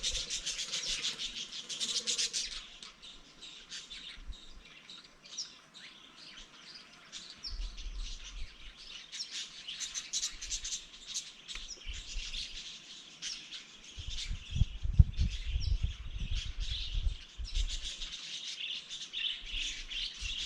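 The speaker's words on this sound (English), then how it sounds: "See if you can hear that chatter of the bird life in the trees here." Birds chatter and chirp continuously in the trees at Kings Canyon, Australia, a busy high-pitched chorus, with occasional low rustling and rumbling underneath.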